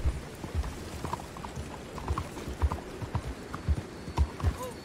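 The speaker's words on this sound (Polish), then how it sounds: "Nie wiem czy tu można w ogóle koniem, ale ja sobie jadę koniem" Horse hooves clip-clop at a steady riding gait in Red Dead Redemption 2, the beats close and clear over a soft ambient bed, with a faint snort or whinny now and then.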